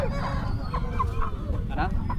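An eleven-month-old rooster of about three kilograms clucks in short, repeated bursts at a busy Saturday hen market in Mydukur, with market voices murmuring underneath.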